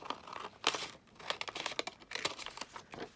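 Vellum paper being cut for a vintage ephemera craft project, giving a string of close, crisp crinkling and snipping bursts in quick irregular rhythm, with no talking.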